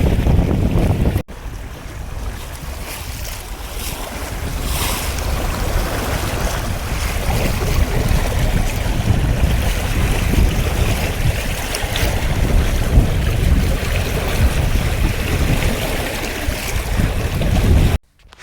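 Strong wind and choppy waves batter a small Siren 17 sailboat crossing Lake Champlain, a steady, loud roar of gusts and water close to the microphone with no voices, cutting off abruptly at the end.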